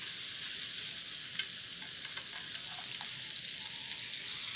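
Steaks searing in a hot pan after being flipped, a dense continuous sizzle with faint crackles and pops, steady and close, heard alone with no voices.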